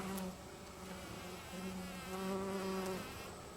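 Steady insect buzzing with a low droning hum, close and continuous, slightly rising and falling in loudness, with no voices.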